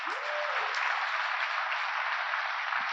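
An audience at a state agency recognition awards ceremony applauds its host and MC, producing a steady, dense wash of clapping that holds evenly for the whole stretch.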